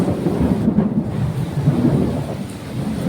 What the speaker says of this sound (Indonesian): Nah, guntur berbunyi, guntur berbunyi.